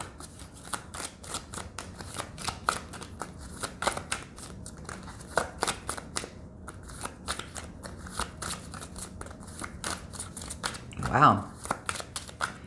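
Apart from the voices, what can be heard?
shuffling tarot cards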